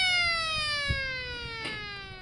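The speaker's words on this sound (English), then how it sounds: "the ranch team is able to move their cattle with just a feed truck and a siren" A siren mounted on a ranch feed truck sounds to call cattle, a loud, close wail whose pitch slowly glides downward over a couple of seconds with light background rumble.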